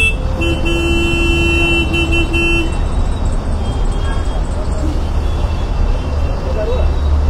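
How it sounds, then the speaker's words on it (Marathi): Car horns honking in busy city traffic, a sustained horn blast over the first few seconds amid a loud, constant roar of engines and street noise. "वेगवेगळे 2-3 हॉर्न ऐकायला येतात"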